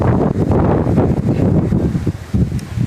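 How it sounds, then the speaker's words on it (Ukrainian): Strong wind blasting the microphone in a garden, a loud, continuous buffeting rumble with brief dips between gusts. "Піднявся вітер."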